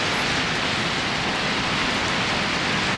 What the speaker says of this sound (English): A rainy morning